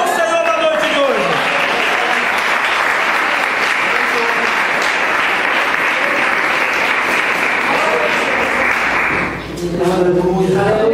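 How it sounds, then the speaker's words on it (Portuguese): Congregation applauding at an evening church service, a dense sustained wash of clapping that fills nearly the whole stretch loudly, briefly dipping near the end as a voice begins speaking again. "Aplauda o Senhor da noite de hoje."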